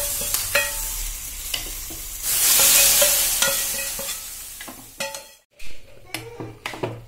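Hot tempering poured into a jackfruit seed and spinach curry gives a loud hissing sizzle that swells and fades over a few seconds, with stirring and clinks of pots and utensils before and after.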